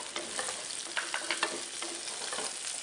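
Onions with mushrooms, garlic and ginger sauté in a pan, with a continuous close sizzle and scattered crackles and stirring scrapes.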